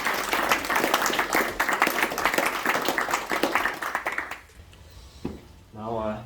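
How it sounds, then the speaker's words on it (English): Audience applause for participants at a designathon final presentation, a dense, loud stretch of many hands clapping that fades out after about four seconds, leaving quiet room tone and a brief voice. "I would like to invite you to give a big round of applause for all the participants in the room."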